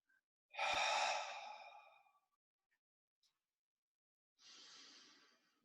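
Deep abdominal breathing during a stretching exercise: one long, loud, close exhale that trails off, a quiet pause, then a softer second breath, with no talking.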